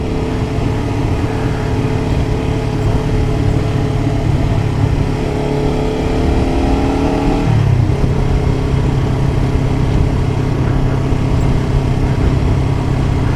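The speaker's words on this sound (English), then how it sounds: "Sometimes I rev my motor so that people in the like area near me can hear me" A Kawasaki Ninja 400 motorcycle engine drone rises in pitch as it revs, then drops back abruptly to a lower hum, heard close and continuous throughout.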